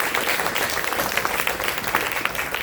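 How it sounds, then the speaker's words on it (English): A round of audience applause at an evening community event on combating antisemitism, dense steady clapping from a crowd filling the room, loud and continuous without talk. "Let's give Rabbi Miller a special round of applause."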